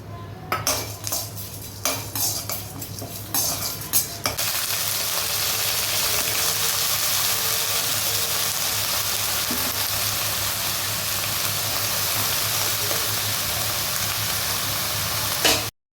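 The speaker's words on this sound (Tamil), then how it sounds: "இப்போ இதெல்லாம் கொஞ்சமாக எண்ணெய் போட்டிருக்கேன், அதில் ஃப்ரை பண்ணிக்கலாம்." Whole spices, lentils, cardamom and clove frying in a little oil, a steady loud sizzle running continuously after some clinking of utensils against a pot at the start.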